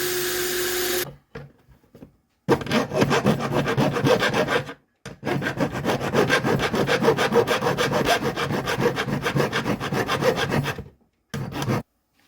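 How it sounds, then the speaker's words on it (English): A drill grinds out rivets on an outboard motor cowl in rough, gritty bursts: a short start, a long steady stretch, then a brief final burst, separated by silent gaps and close to the listener. "So I'm going to attempt to drill these out."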